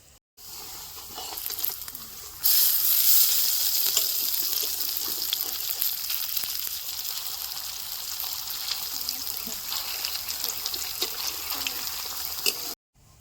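Cabbage koftas fry in hot oil for a village-style kofta curry, a steady, dense hiss that suddenly grows louder after a couple of seconds and then holds evenly before cutting off, with no talking.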